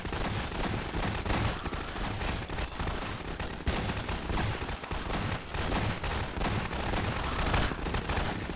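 Constant gunfire in Garry's Mod, a dense unbroken barrage of rapid shots that stays loud and close throughout, with no voices.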